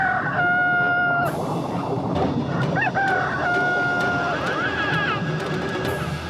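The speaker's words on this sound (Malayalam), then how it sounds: "കോഴി കൂവുന്നത് കേട്ട് ഉണരാൻ നീ ഫുർഫുറി നഗറിലൊന്നല്ല ഉറങ്ങുന്നത്" A cartoon rooster living under the sea crows loudly in several long, rising and falling calls. Other sound-effect tones and a short burst of noise come between the crows.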